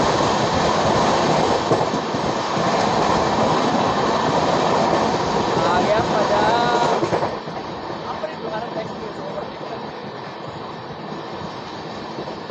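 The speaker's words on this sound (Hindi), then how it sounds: "तो जी पहला अमृत भारत एक्सप्रेस को overtake Kolkata Agra weekly express." Kolkata Agra Weekly Express rushing past on an adjacent track while riding aboard the Amrit Bharat Express, a loud steady roar of wheels and rail noise that drops off sharply near the end as the overtaking train clears, with voices faintly underneath.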